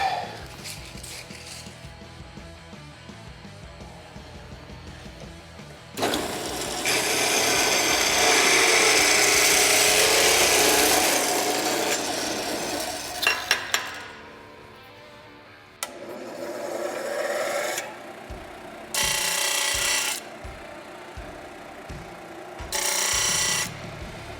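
Power tool cutting a length of rub rail in a garage: a loud, harsh sawing burst of several seconds, then quieter handling noises and a few shorter cutting bursts.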